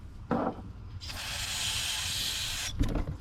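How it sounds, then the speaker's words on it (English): Carb cleaner sprayed onto engine studs during an ECM and alternator install on a 2005 Duramax LLY 2500, a steady hissing aerosol burst lasting about a second and a half, close by, with brief handling noises before and after. "A little bit of carb clean works for everything."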